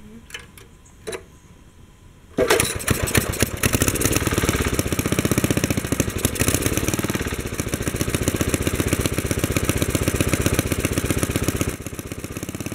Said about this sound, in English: Once it starts, the governor takes over and pushes the carburetor arm back towards the idle position.